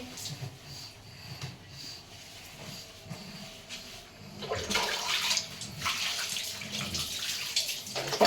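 Water sloshes and splashes from a bucket during a young child's bath at home, growing louder and busier in the second half with pouring and splashing bursts; faint voices murmur underneath.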